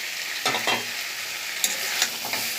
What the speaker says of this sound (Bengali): চেরা কাঁচা লঙ্কাটা দিয়ে নেড়ে চেড়ে